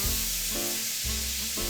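Steak frying in a pan gives a steady, close sizzle with a constant crackling hiss and low rumbling undertones, continuing unbroken with no voices.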